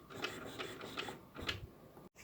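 An HP Deskjet Ink Advantage 4535 printer runs just after being switched on, giving a series of soft mechanical whirs and clicks that repeat at a steady pace, fairly quiet.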